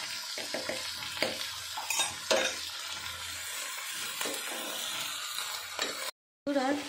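Ground cumin, ginger, chili and coriander paste frying in oil for a Bengali fish curry, a soft sizzle with repeated spatula scrapes and knocks against the pan, close and moderate, broken by a brief silent gap near the end.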